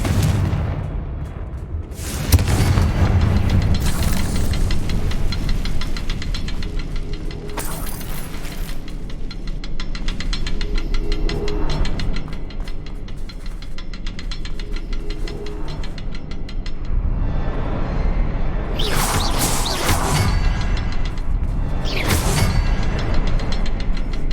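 The Confringo spell is cast in the Hogwarts Legacy video game, producing booming, explosive blasts with whooshing bursts and mechanical clatter over a continuous rumbling game soundscape.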